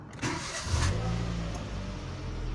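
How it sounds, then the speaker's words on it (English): A car engine cranks briefly and catches, then settles into a steady idle, close and moderately loud. "once the engine's started."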